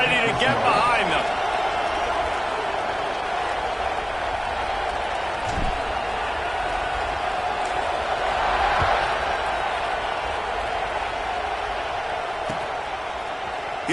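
Football stadium crowd at an LSU game, a broad steady roar of cheering voices heard from a distance, with occasional thuds and a commentator talking over it.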